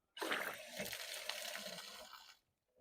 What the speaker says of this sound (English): And now it's time to try your brand new outdoor spigot.